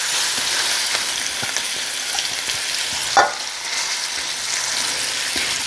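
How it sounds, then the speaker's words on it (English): Chicken searing in a hot pan, a loud continuous sizzle and crackle heard close up, with one brief scrape or tap partway through. "it's time to add our chicken so that it can sear"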